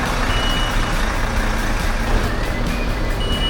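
A vehicle reversing on a groundworks site during Victorian underpinning sends out a steady run of repeated reversing beeps over a continuous low engine rumble. The sound is fairly loud and close, with no talking.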